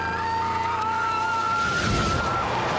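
Car tyres skidding in a Doctor Who episode, a loud sustained screech with a steady high whine lasting a couple of seconds over engine rumble, heard alone.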